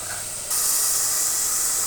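Spices frying in oil in a pan for a vegetable curry with cauliflower, gourd, carrot, potato and radish: a steady close hiss that jumps sharply louder halfway through, as if something was added, with no talk.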